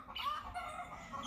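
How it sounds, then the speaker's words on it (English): Chickens cluck nearby in short, tonal bursts over a soft background, fairly close and moderately loud, with no one speaking. "the fowls are trying to communicate with them in such a wonderful way"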